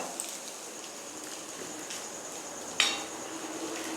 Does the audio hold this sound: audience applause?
no